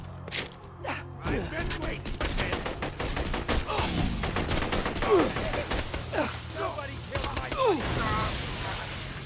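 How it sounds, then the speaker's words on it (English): Rapid gunfire cracks in Borderlands 2 as shots hit an explosive barrel. Busy bursts of shots and mechanical clatter run for several seconds, mixed with voices and gasps. "I would have died if I didn't shoot that barrel."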